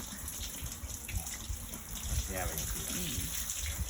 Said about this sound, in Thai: คัดแยกมะม่วงโดยใช้น้ำ